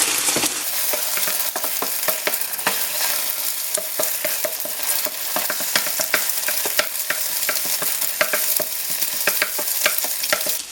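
Fried rice ingredients frying hard in a pan, a loud steady sizzle with rapid ticking spatters and occasional scrapes, close and continuous with no talking.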